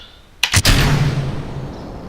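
A rocket launches in Kerbal Space Program, a loud sudden burst of ignition followed by a sustained roaring rumble that slowly fades, heard alone without talk.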